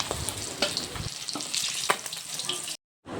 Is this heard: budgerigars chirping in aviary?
no